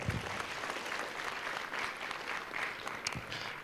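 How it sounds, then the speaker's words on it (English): An audience of leaders at a talk breaks into a big round of applause, dense and continuous, with a few sharper claps standing out near the end. "So give yourself another big round of applause."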